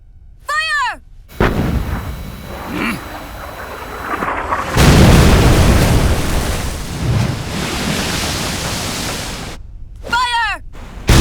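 Heavy artillery fire and explosions erupt in Metal Gear Solid 4 in a long, loud, roaring rumble. Short shouted calls come just before and after.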